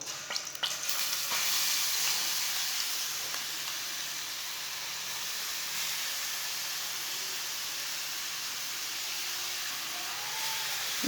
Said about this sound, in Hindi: अब गाजरों को 5 मिनट के लिए भून लेंगे। इसे ऐसे ही चम्मच चलाते हुए भूनना, मीडियम आंच पर।